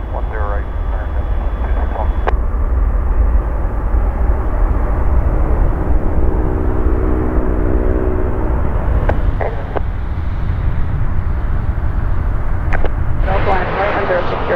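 An American Airlines jet touches down on runway 10 right at Chicago O'Hare, a loud, continuous engine roar that holds steady throughout while radio voices from air traffic control cut in over it.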